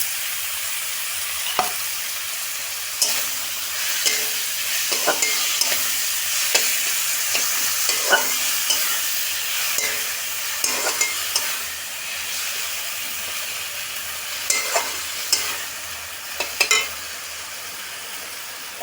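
Starfruit chutney stirred in a pan after sugar goes in, with repeated scraping strokes and light clinks over a soft continuous sizzle, close and steady with no talking.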